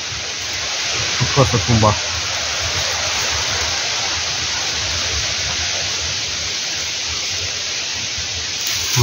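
Strong wind roaring steadily through a forest, a loud broadband rush lasting throughout, with a brief voice speaking near the start.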